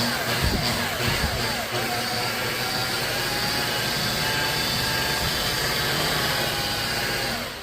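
Buffer polishing the paint of a 1964 Cadillac Sedan DeVille at low RPM, a steady close whirring drone that holds level throughout with a few brief bumps near the start.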